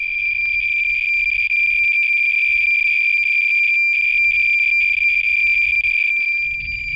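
A loud, continuous high-pitched electronic tone rings steadily, with faint low rumbling underneath: a Geiger counter saturated at about 18,000–20,000 counts per minute at the entrance of a radioactive uranium mine.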